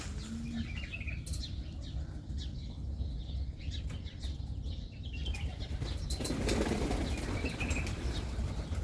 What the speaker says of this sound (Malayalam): ഇഷ്ടം പോലെ പ്രാവുകളുണ്ട്,